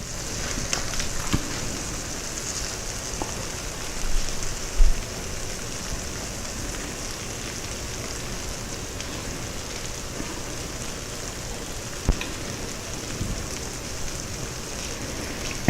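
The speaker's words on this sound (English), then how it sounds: "We're frying up the cheese." Steady hiss and sizzle of cheese frying in a pan, with a few soft pops and crackles scattered throughout.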